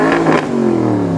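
Porsche Panamera Turbo engine blips in a sharp, loud rev close by, a quick surge followed by a deep settling rumble, alone with no voices.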